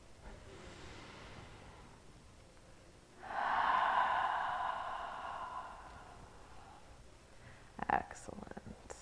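A slow, deep breath during a yin yoga class swells into a long, airy hiss and then fades away, followed by small rustles and a soft voice at the end.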